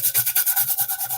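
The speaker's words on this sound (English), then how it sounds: "I'm scrubbing out a pan here." Scrubbing out a pan with cooked-on, toasted cauliflower residue while washing dishes: quick, steady back-and-forth rubbing strokes, about eight to a second-long burst, close and fairly loud with no talking.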